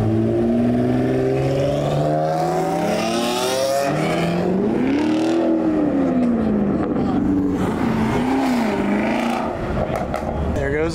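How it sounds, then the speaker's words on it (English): A McLaren Senna sports car drives past on a downtown Houston street at a cars-and-coffee meet, its engine note rising and falling with sweeping pitch as it passes close by, loud throughout, with people talking faintly nearby. "There goes a Senna."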